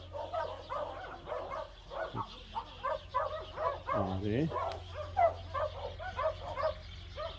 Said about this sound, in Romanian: câinii ăștia nu mă latră într-una